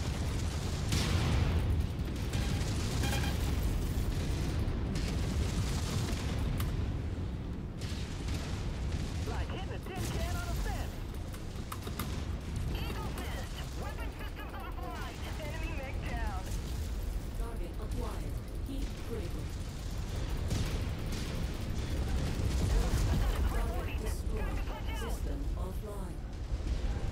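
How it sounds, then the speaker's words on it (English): Mech weapons fire in MechWarrior 5 as dense, continuous rumbling booms and explosions, with mechanical clanks and a voice talking over the battle. "Target cyclones. I'll shoot from here."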